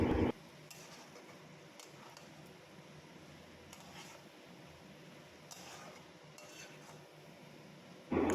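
Vegetables being stirred in a pan with soy sauce and vinegar for Bengali-style hakka chowmein, soft scraping and light utensil clicks at low level under a quiet background, with louder knocks at the start and end.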